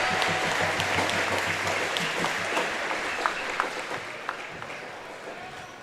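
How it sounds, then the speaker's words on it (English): A gym crowd at a high school senior night basketball game applauds the senior cheerleaders, a steady wash of clapping that fades slightly toward the end. "Let's give a big round of applause to the senior cheerleaders"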